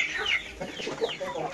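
Chicks and chickens clucking and peeping together at close range, a brief steady chatter of small bird calls with no talk over it.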